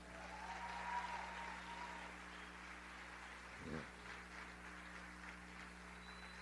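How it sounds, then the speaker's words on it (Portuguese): Faint, steady applause from an audience, a soft continuous wash of clapping heard from a distance, with a low hum underneath and a brief voice near the start. "eu queria uma salva de palmas para o Cálio, por favor."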